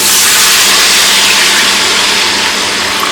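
Water poured into a hot wok after stir-frying, setting off a loud, steady steam hiss and sizzle that holds for the whole stretch without pause.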